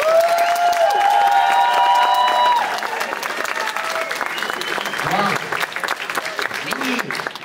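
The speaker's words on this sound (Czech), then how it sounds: "poprosím ještě jednou potlesk." Audience applause at a dragon-boat ball event in Otrokovice, steady and loud, fading slightly after a few seconds while a voice talks over it.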